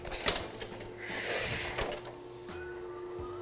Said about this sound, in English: I'll let the rollers down over the ink cylinder to carry ink to the plate and feed my first